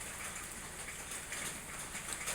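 Steady rain falls over a rural home in southern Laos, a continuous soft hiss with no voices.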